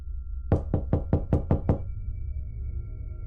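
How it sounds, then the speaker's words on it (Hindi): Seven firm knocks on a door land in a quick, even series, close and loud, and then stop, leaving a low hum in an eerie horror-story setting. "फिर से एक बार दस्तक होती है"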